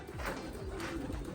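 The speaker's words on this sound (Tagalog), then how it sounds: "Ayaw mapumasok mga kalapatids." Racing pigeons coo at the loft in soft, low, rolling calls that repeat several times over a brief stretch, fairly close and alone without any voices.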